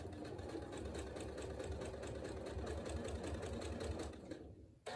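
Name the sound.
sewing machine sewing a quarter-inch quilt seam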